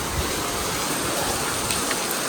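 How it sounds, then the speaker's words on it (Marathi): Steady rain pours down in a dense, even hiss, with no voices and no pause. "पाऊस आहे आता आम्ही काम करून झालो आणि पाऊस लागला"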